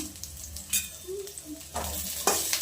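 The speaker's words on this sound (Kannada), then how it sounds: "ಈಗ ಈರುಳ್ಳಿ ಹಾಕ್ಕೊಂಡು ಫ್ರೈ ಮಾಡ್ಕೊಳ್ಳೋಣ" Chopped onions frying in oil for a chicken sambar sizzle steadily, punctuated by scraping stirs and a couple of sharp utensil knocks against the pan, close and fairly loud.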